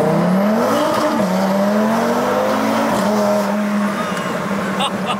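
An Audi RS3 on a dynamometer revs hard, its engine note climbing in pitch and dropping back as the throttle is worked, loud and close inside the car.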